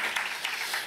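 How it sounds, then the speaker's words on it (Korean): Brief congratulatory applause from a church congregation for a pastor's wedding anniversary, a soft, steady patter of many hands clapping at moderate distance with no voices. "이럴 땐 보통 축하의 박수 한번 쳐주던데"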